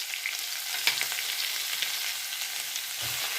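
Cumin seeds, hing and ginger-garlic paste fry in hot oil with a soft, steady sizzle, a few faint clicks and a low thump now and then, close and quiet with no voices.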